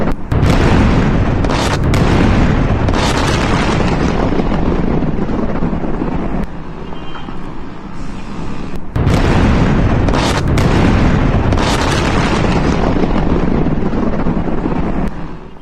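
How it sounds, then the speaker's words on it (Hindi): Bombing near Chabahar port in Iran: loud, distorted booming blasts roll in continuous waves, with a brief dip midway before another heavy surge, saturated rumble and wind-like roar throughout. "चाबहार पोर्ट के पास हमला होता है और जबरदस्त धमाका यहां पर होता हुआ दिखता है"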